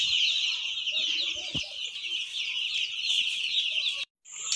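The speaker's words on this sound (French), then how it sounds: "Comme vous le voyez, nos poussins sont là, ils sont très jolis." Young chicks in a brooder peep continuously and fairly loudly, a dense high chirping chorus running throughout with a few soft low clucks beneath, briefly cutting out near the end.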